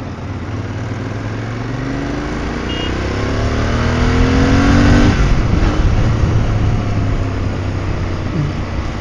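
A Royal Enfield Interceptor 650 motorcycle engine revs and climbs in pitch under steady wind rush, peaking loudly midway before easing off into a sustained drone.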